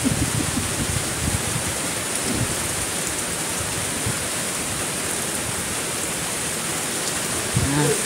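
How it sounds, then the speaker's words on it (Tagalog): Heavy rain pours steadily onto surfaces at a vegetable seller's stall, a dense, loud, continuous hiss that fills the whole scene, with a few brief voices and bumps breaking through near the start and end. "Rain."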